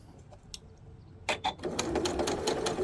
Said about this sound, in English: I am going to sew an exact 1/4 inch.